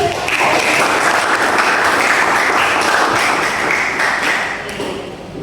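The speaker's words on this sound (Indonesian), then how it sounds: "Tepuk tangan lagi." A classroom of students claps together for a correct answer in a maths lesson, a brisk burst of close, loud clapping that runs evenly and then stops abruptly.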